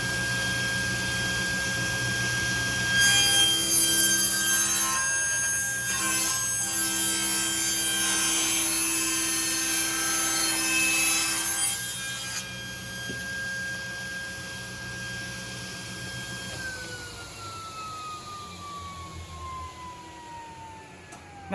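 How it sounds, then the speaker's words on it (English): Table saw cutting a groove into plywood while building cornhole boards: a loud, steady whining cut of about ten seconds that then spins down, with no talk. "So let's go ahead and cut this groove out."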